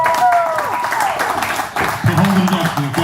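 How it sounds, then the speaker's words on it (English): A comedy club audience applauds as comedian Corey Kinsella is introduced, steady crowd clapping beneath a voice speaking over it, with a brief dip midway before the applause swells again. "Let's hear a big round of applause for him."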